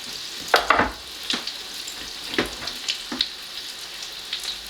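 Vegan vegetable fritters crackle in a pan of oil, a close, steady sizzle broken by several louder bursts of spatter and scraping as they are moved around.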